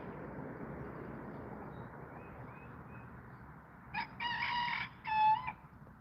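A barred rock bantam rooster crows twice in close succession near the end, loud and nearby, after several seconds of steady outdoor background noise.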